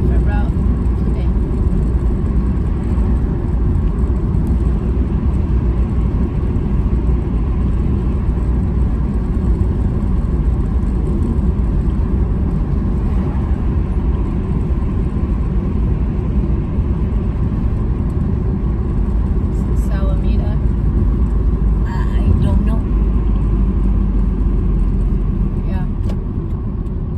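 A car cruises along a freeway in Albuquerque, New Mexico, with a loud, continuous road and engine rumble throughout and a few faint ticks and clicks inside the cabin.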